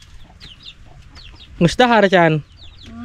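A chicken clucks a few times in quick succession, loud and close, after quiet background speech in a village yard.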